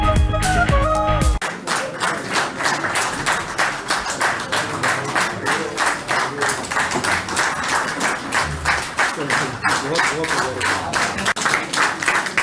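Members of a cabinet meeting applaud the prime minister with steady, dense clapping that continues for several seconds after a short opening of music, while a voice speaks over it.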